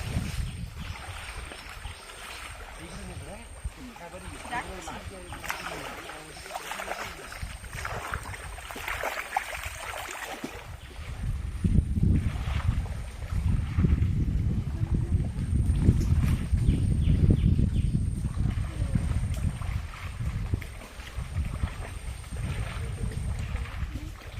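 A small boat sits on the water in the Sundarbans, with wind buffeting and water sloshing against the hull; the noise grows louder and rougher about halfway through, and no one speaks.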